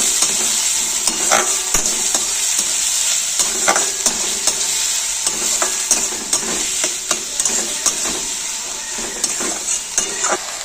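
Chopped garlic and onion frying in hot oil for a chili soybean dish, a steady close sizzle broken by repeated scraping stirs of a spatula across the pan.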